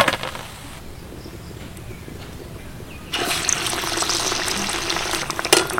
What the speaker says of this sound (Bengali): আমি যেহেতু একটু অল্প তেলে ভাজছি